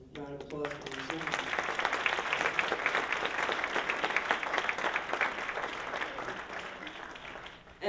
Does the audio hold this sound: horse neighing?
no